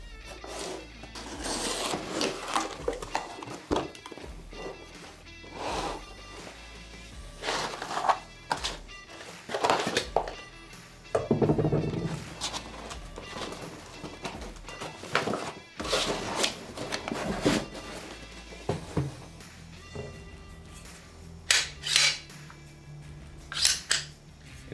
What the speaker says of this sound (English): let's unbox your new bolt action